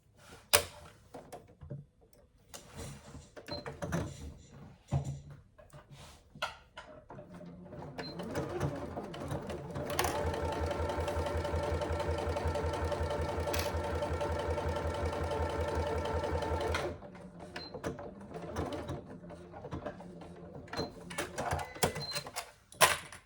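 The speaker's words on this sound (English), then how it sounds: "And just sew across that top straight edge at a 1/2 inch seam allowance." A home sewing machine stitches a straight seam across the top edge of a handbag, running steadily for several seconds mid-clip with a fast, even mechanical hum, framed by quieter handling and fabric rustles before and after.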